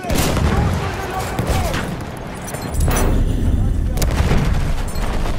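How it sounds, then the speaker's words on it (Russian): Grenade blast amid a dense Battlefield 1 firefight on the Albion map, with loud overlapping gunfire and booms roaring continuously close by and a voice calling out over the battle. "Граната пошла!"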